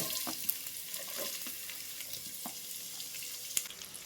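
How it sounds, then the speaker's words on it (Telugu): Onions fry in a little oil while being stirred back and forth, a soft continuous sizzle broken by scattered scraping clicks of the spoon, close and quiet with no talk. "ఇట్లా ఫ్రై చేసుకోండి కొంచెం ఆయిల్లో అటు ఇటు ఇప్పుడు ఉల్లిగడ్డ వేసేసుకోండి"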